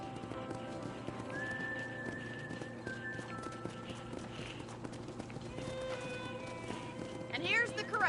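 Horses at a video game ranch corral in Red Dead Redemption whinny and hooves clip-clop against a steady background of synthetic ambience and music, with a voice talking over it; a sharp neigh rises near the end.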